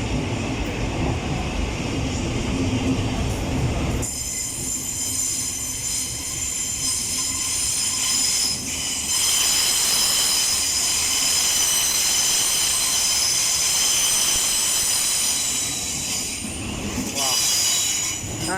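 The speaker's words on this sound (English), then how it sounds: "377 arriving over there from Epsom Downs." A Class 377 Electrostar train pulls into London Bridge station, arriving from Epsom Downs: loud, continuous rolling and rail rumble with metallic wheel squeal and a shrill high tone throughout, heard close on the platform.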